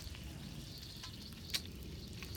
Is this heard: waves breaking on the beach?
no